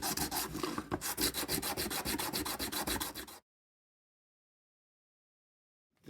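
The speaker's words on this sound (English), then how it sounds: "We're just going to sand. Just kind of go around here and knock them nasty scratches off it." Sandpaper is rubbed back and forth by hand to knock scratches off a surface, a brisk run of loud, rhythmic rasping strokes that stops abruptly, followed by silence.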